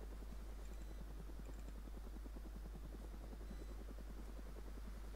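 A helicopter hovers in the Arma 3 military game, its steady rotor chop pulsing continuously at moderate, even loudness with no talking.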